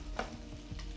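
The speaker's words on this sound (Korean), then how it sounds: "그래서 잘 섞어주시고요" Minced garlic, minced onion, soy sauce and salt being stirred together in a bowl, a soft, brief wet mixing and scraping sound, close and quiet, with no voices.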